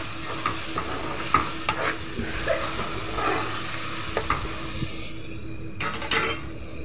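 Egg and brinjal curry with tomato is stirred in a pan, giving a continuous soft sizzle broken by scraping strokes and light clinks of a spoon against metal, close up, with no talk.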